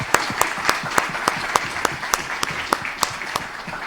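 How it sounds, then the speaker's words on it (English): An audience at a biodiversity lecture on bird migration gives a sustained round of applause, with sharp, regularly spaced claps standing out above the dense background clapping. "if we could give them a round of applause, because they've worked very hard"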